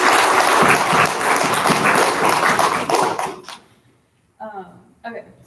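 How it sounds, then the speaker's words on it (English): An audience at a BFA thesis reading claps for Rose and Jenna, a dense, loud round of applause that fades out, followed by brief silence and then a voice speaking. "Can we give one more applause for Rose and Jenna,"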